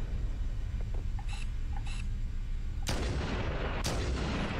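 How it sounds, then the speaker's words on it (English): Two heavy sniper rifle shots boom out about a second apart in Halo: CE Anniversary, each with a long rolling tail, after a pair of faint mechanical clicks under steady background game noise. "let's use the sniper"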